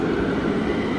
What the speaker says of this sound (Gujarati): જો અમારી મેટ્રો આવી ગઈ છે.